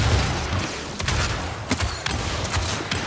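Grenades burst in the Paladins shooter game in a loud, dense volley of booms and cracks that overlap into a continuous rumble across the whole short stretch, with no talking over it.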